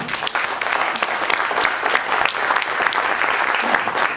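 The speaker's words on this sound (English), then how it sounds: "Everyone give a round of applause for Tom." An audience at a community event claps steadily for Tom as he is invited back up for a raffle, a dense, even patter of many hands lasting throughout at close range.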